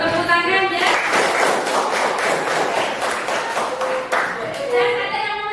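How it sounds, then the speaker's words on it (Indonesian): Students in a classroom give a short burst of hand clapping that starts and stops within a few seconds, with voices audible before and after it. "Ya, boleh tepuk tangan ya."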